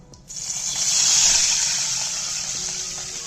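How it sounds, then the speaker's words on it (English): Water poured into a pan for sweet rice after cardamom and cloves are sauteed, a steady rushing gush that swells after a brief quiet start and then holds a constant hiss to the end. "Then going to add the water."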